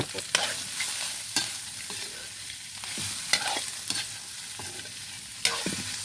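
Meat frying in a pan and being stirred, a steady loud sizzle broken by sharp scraping knocks of the utensil every second or so, close up with no voices.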